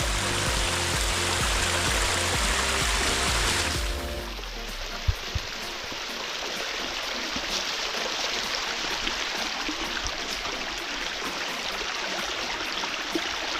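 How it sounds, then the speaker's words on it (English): Spring water pouring from the side of a hill in Iowa, a steady hissing splash that is loud at first, then drops to a softer continuous trickle after a few seconds. "This is right where the spring is coming out of the side of the hill."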